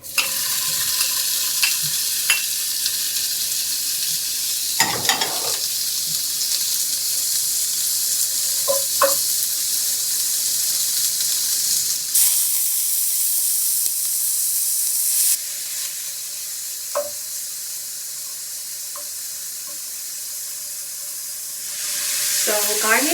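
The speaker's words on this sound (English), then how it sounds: "in the pan, I can cook the meat garnish" Meat garnish for Korean tteokguk frying in a pan, a steady close sizzle with occasional stirring scrapes and clinks, one louder burst of hissing partway through.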